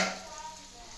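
Food frying in a pan for a mushroom and green pea masala, stirred with a faint steady sizzle and a scrape at the start, brief and fairly quiet with no talk.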